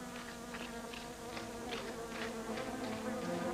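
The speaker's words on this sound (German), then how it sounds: "Wir fliegen mitten in ein Wespennest, Sassette." Cartoon bees or wasps, a swarm around a nest, buzz in a steady, dense drone that swells and wavers throughout, loud and continuous over a musical background with no speech.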